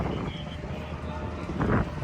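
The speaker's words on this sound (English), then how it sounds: "It's too windy here anyway. Stupid wind." Wind buffeting a microphone at a drift race track, a low constant rumbling roar with a louder gust near the end, and no clear talk over it.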